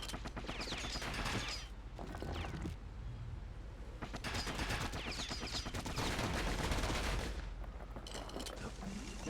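Dual slinger pistols fire rapidly in the video game Bastion, with dense bursts of gunfire, impacts and game effects filling the sound close and continuous, with a voice partly buried beneath.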